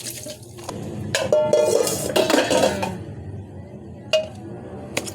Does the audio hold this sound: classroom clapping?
no